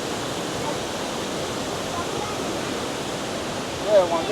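Steady broadband rush of Kuang Si waterfall in Laos, a loud continuous roar of falling water filling the scene, with a brief faint tonal chirp near the end.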